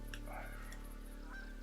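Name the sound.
geese honking in video game theHunter: Call of the Wild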